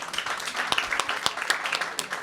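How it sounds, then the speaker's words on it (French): An audience at an International Day of Peace celebration gives a short burst of applause, with dense scattered clapping heard from the room and no speech over it. "Est-ce qu'on peut applaudir le Japonais?"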